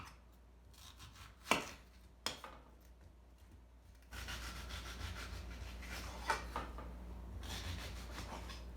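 A knife cuts thin slices of vegetables for chicken fajitas on a cutting board, a few sharp close chops followed by a steadier rasping run of slicing, quiet and without speech.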